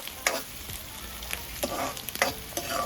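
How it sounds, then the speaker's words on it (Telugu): Onions, green chillies and curry leaves fry in hot oil with a steady soft sizzle, punctuated by several sharp stirring scrapes and clinks of a spoon against the pan, close up and with no talking. "కొంచెం ఫ్రై కావాలి ఇవి"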